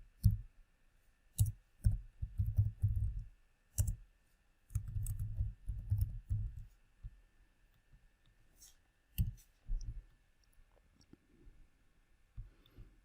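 Typing on a computer keyboard, soft clicks in short irregular clusters with pauses between, close and quiet against a near-silent room.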